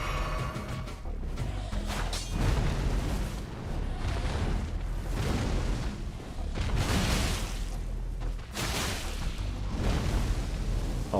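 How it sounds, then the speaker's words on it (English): Rumbling booms and whooshing blasts from an Elden Ring boss fight roll through several times in succession, loud and broad, with no talk over them. "Oh, big explosion."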